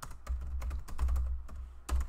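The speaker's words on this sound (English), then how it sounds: "again we have to type all of these keys and values." Code is being typed on a computer keyboard in a run of quick, close, irregular key clicks with a few heavier taps, with no talk over it.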